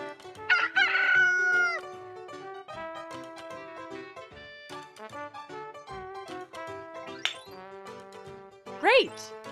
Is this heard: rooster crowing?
yes